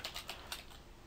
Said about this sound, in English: So now I'm typing like that.